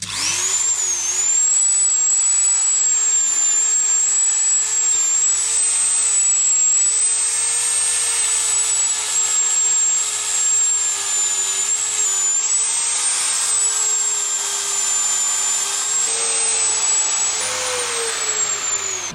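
A Dremel rotary tool fitted with a soft polishing attachment buffs a machinery part, giving a steady, loud high-pitched whine that holds constant for the whole stretch with slight pitch wavers, no talking.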